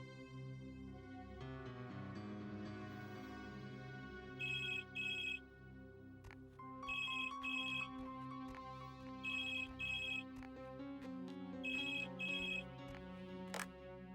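A mobile phone ringtone chimes in repeated double bursts at regular intervals, fairly faint, layered over steady background music.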